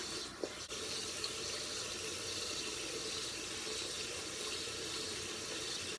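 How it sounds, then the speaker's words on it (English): Tap water runs steadily into a bathroom sink, a continuous close splashing wash that stays even throughout with no talking. "Turn the water on."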